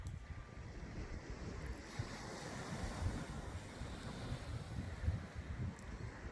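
Wind gusts by the sea at night during a cold evening of shore fishing, a faint, continuous low rumble with soft surf-like wash and occasional buffeting swells.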